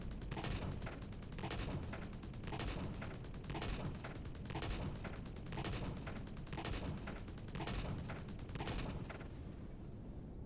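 Rapid, rhythmic bursts of turret gunfire in the space game Reforged Eden 2, a steady run of roughly a dozen evenly spaced shots over a constant background hum, fairly faint, without talk.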